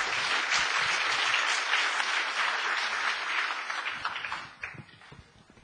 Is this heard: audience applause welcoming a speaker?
yes